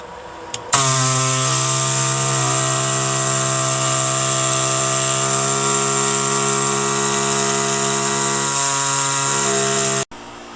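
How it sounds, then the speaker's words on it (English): An oscillating air saw cuts boat fiberglass with a loud, steady, high-pitched whine that kicks in abruptly, holds unbroken for about nine seconds, then cuts off sharply. "Here's a quick shot just to show you the air saw in action."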